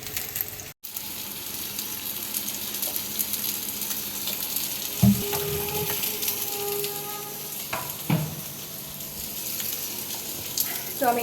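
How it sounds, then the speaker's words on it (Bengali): Pointed gourd (potol) frying in a kadai gives a continuous close sizzle and crackle, with a few sharp utensil clatters partway through and faint background voice. "তো আমি এদিকে পটলটা ভাজছি"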